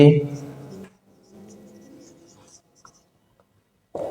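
Pen scratches on paper while writing a date during a class 5 maths lesson, a soft, close scribbling that runs in bursts between stretches of someone talking.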